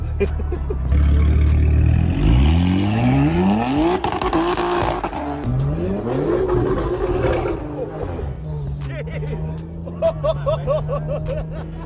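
A tuned S58 engine in a BMW G82 M4 Competition revs hard through several rising gear pulls, each climbing in pitch then dropping, with voices talking and laughing in the cabin.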